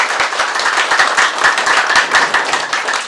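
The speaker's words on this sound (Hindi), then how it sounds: "एक बार जोरदार तालियां राजेश भाई के लिए" Loud, enthusiastic applause from a seminar audience for a speaker after a festival sales-strategy session, many hands clapping densely and steadily up close with no speech over it.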